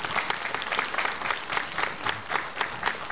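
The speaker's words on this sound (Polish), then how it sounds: "Wielkie brawa, proszę państwa." Theatre audience applauding at a 25th-anniversary show of a small-town theatre group; sustained, fairly rhythmic crowd clapping that pulses in near-unison beats throughout.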